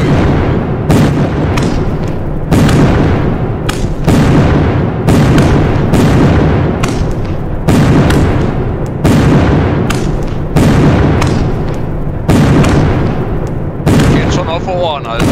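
A fireworks battery in the video game Pyroworks fires shot after shot, loud booming bursts repeating every second or so in a long unbroken series.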